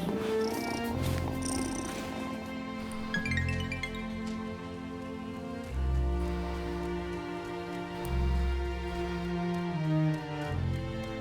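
A cat purrs steadily in the Wylde Flowers video game, a low rhythmic rumble pulsing in long cycles under soft, sustained game music.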